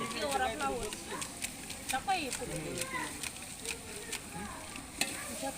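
Green peas and Mapco ground masala paste fry in a pan for veg biryani, a steady close sizzle with stirring scrapes, while voices talk in the background.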